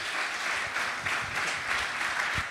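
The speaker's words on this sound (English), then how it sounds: "Big round of applause for Jordan, please." Audience applause at a startup expo summit in Munich as a speaker comes onstage, a brief, dense wash of clapping at steady volume with faint crowd murmur underneath.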